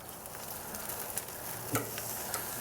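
A steak sears over a charcoal grill set up for a front sear, giving a steady close hiss of sizzling fat with a few sharp pops and crackles rising over it.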